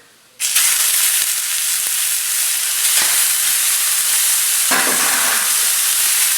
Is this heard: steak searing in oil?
yes